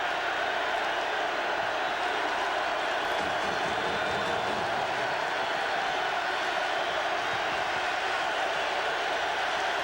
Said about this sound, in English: Crowd noise is unbelievable also.